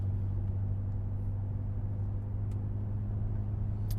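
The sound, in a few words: 2015 BMW X5 M twin-turbo V8 under normal driving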